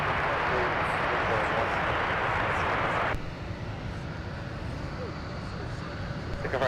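A jet airplane roars on takeoff at Minneapolis–St. Paul airport, a loud continuous engine rumble that drops sharply in level partway through and continues as a softer distant drone.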